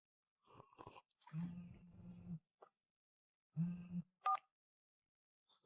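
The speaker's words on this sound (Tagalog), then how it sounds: "Tawagan mo agad si Li Jiangwo." A telephone number is dialed by hand on a factory phone, with a few short separate tones and clicks, moderately loud and close, a brief gap in the middle, and no talking.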